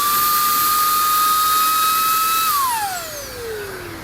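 A Milwaukee or Makita cordless blower running up close: a loud, steady high-pitched whine for over two seconds, then the pitch falls smoothly as the motor spins down.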